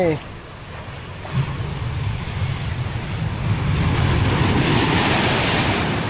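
Sea waves surge toward seaside houses, a loud, steady roar of surf and churning water that builds and stays heavy throughout, with wind buffeting the microphone.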